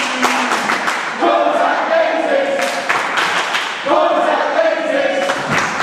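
A loud wrestling crowd at a live indoor match jeers and shouts at the referee, a dense continuous roar with swelling bursts and scattered claps and thuds, reaction rising and falling over a few seconds.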